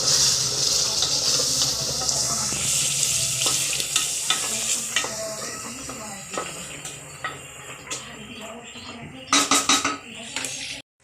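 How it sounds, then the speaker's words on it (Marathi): Ground masala paste for a spicy mutton curry fries in oil with a dense, steady sizzle that gradually fades, broken by stirring scrapes and a quick run of clanks against the pan near the end. "टाकणार आहे चांगलं तेलामध्ये फ्राय करायचं"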